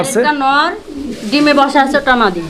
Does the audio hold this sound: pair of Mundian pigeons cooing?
yes